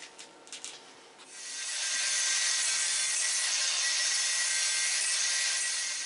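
An angle grinder grinding down a metal weld, a steady, loud, rough hiss that starts after a brief scrape and holds evenly to the end.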